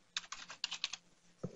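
Quiet typing on a computer keyboard: a short run of about half a dozen distinct clicking keystrokes in an uneven rhythm, then a brief pause and one duller tap at the end.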